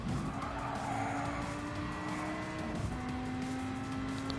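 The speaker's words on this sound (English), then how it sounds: "Now I am sliding all over the place, but I ain't worried about it." Tires squeal and skid as a car slides around in the racing video game Gran Turismo, a steady, sustained screech over continuous engine noise with no talk.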